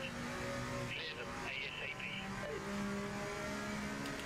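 Race car engines from the Project Motor Racing video game drone and shift pitch steadily as several cars battle, with a voice talking over the continuous engine noise.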